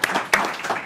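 Brief burst of applause from an audience at the Qubes OS Summit 2024, clapping for the event team, short and moderately loud with a couple of sharper claps.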